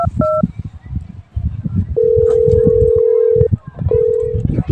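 Short electronic keypad tones beep a few times, then a long steady tone and another held tone, over busy background chatter.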